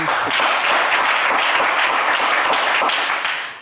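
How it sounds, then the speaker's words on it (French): Studio audience applause on a French television game show, loud continuous clapping from a crowd that holds steady for a few seconds and then tapers off. "On vous applaudit."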